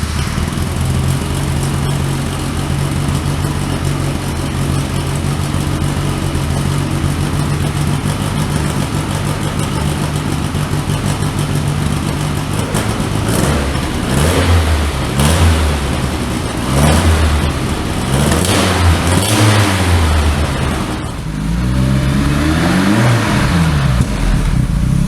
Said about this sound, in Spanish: vamos a arrancarlo también para escucharlo.